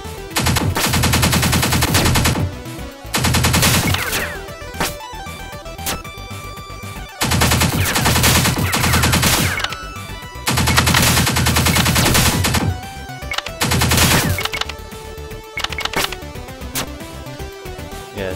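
Rapid automatic gunfire from the top-down shooter game Pineapple Smash Crew comes in loud, sustained bursts of a few seconds each, separated by brief pauses, with no voices over it.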